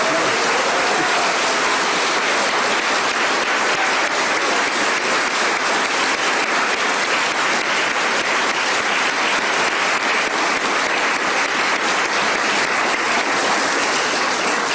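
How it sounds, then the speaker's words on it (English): An audience at an awards ceremony gives finalists and winners a loud, sustained round of applause, a dense unbroken wash of many hands clapping close by that holds steady from start to finish. "give all of our finalists, winners, a big round of applause."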